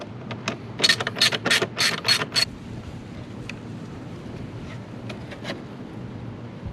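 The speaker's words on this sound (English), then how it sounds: "All right, an 8mm socket." A ratchet fitted with an 8mm socket turns cover screws on a Can-Am Ryker, giving a quick run of close, crisp clicking strokes, then a few scattered faint clicks against outdoor wind noise.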